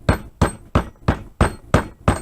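A hammer with a plastic-faced end taps a pin into an extended SKS rifle magazine release, seven evenly spaced, sharp close knocks in quick succession with no talk.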